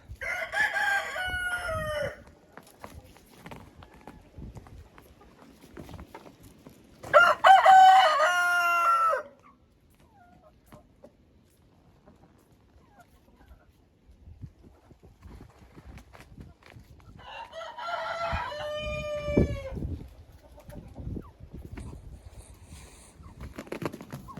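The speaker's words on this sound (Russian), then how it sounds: "И куры сами будут заходить и выходить, когда захотят." A rooster crows in three loud bursts, spaced apart, while hens in an open-door coop cluck and rustle quietly in between, with soft clopping and movement noises.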